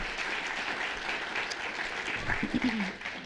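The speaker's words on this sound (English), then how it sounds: "Clap again for that beautiful passage." An audience at a literary event with a writer claps in steady, fairly soft applause that continues throughout, with a few voices faintly underneath near the end.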